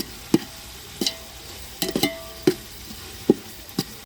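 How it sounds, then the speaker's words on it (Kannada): Onions being roasted in a pan for egg drop dum biryani, with a quiet background sizzle broken by about eight sharp stirring scrapes and knocks of a utensil against the pan at uneven intervals. "ಈರುಳ್ಳಿ, ಈರುಳ್ಳಿ ಸ್ವಲ್ಪ ರೋಸ್ಟ್ ಮಾಡ್ಕೊಳ್ಳಿ."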